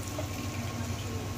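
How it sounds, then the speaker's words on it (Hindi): Water is poured into a pan of fried raw banana and potato curry, giving a steady, low gushing and bubbling wash that stays fairly even for a moment. "अब हम इसमें पानी ऐड कर देंगे।"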